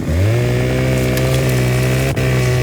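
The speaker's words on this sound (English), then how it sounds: "what you do is you pull out one of your chainsaws if you have one" A chainsaw revs and cuts in the video game Farming Simulator 2015, holding a loud, steady buzzing drone throughout with one brief dip near the end.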